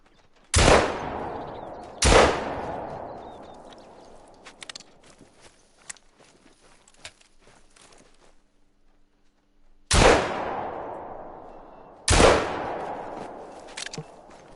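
Four loud rifle shots in the hunting game theHunter: Call of the Wild, two close together at the start and two more later, each with a long echoing tail, and soft footsteps rustling between them.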